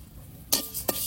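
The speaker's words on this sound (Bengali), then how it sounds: "এই চালটা আমি ভেজে নেবো।" Rice dry-frying in a very hot kadai gives two short, close bursts of bright hissing and rattling as the grains are stirred, with a quiet pause between them.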